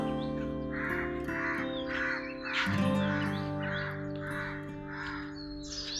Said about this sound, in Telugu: పక్షులు అరుపులు అన్నీ ఎక్సలెంట్గా ఉందబ్బా